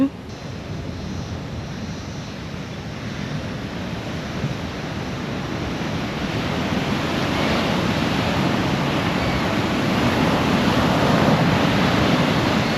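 Ocean surf on Pebbly Beach, NSW, a continuous broad wash of breaking waves that swells slightly louder over time, mixed with some wind buffeting on the microphone.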